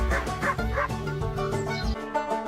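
Dog barking in a farm-animal sound quiz, a run of close, loud yelping barks over about two seconds with some whimpering tones, no talk.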